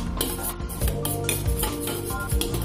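Marinated chicken being stirred with olive oil in a pan, a steady run of scraping and clinking from utensil against cookware at close range, with no talking.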